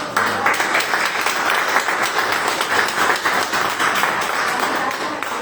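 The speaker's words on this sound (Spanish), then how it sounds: "Démosle un fuerte aplauso." Sustained applause from a church congregation during a Bible study service, dense steady clapping filling the room for several seconds with little talk over it.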